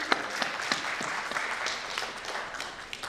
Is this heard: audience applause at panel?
yes